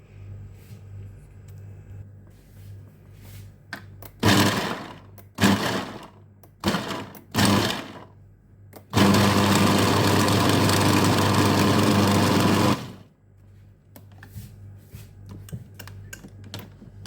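Dried garlic is ground in an electric grinder, first in several short loud pulses and then in one sustained whirring run of about four seconds, with a low hum before and after.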